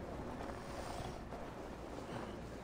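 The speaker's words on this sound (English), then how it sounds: "Windy storm coming." Gusting wind of an approaching storm in the video game Assassin's Creed Valhalla, a dense, steady roar of rushing air filling the scene without any talk.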